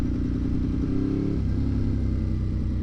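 A Ducati 1098S motorcycle engine idles steadily at about 1300 RPM, a loud, close, lumpy low rumble with a brief dip in tone partway through and no voices.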